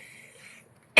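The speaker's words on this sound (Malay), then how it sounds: "Batuk dah." A single sharp, loud cough breaks a near-silent pause at the very end, following faint background tones.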